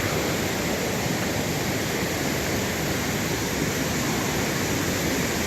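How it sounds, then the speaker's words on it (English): A waterfall on Maui, heard as a steady, unbroken broadband rush of falling water that holds at an even loudness throughout, with no voices over it. "And I do believe we're coming up to a waterfall."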